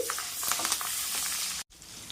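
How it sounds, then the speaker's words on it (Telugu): Green chillies and curry leaves frying in a pan give a steady, close hiss and crackle of hot oil that runs almost continuously, broken by a brief gap near the end before the sizzle resumes. "ఒక నాలుగు పచ్చిమిర్చి అలానే కొంచెం కరివేపాకు ఇవన్నీ కూడా బాగా వేపుకోవాలన్నమాట"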